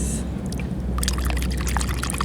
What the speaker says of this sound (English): there's a little rock pool here. Let's give it a rinse off.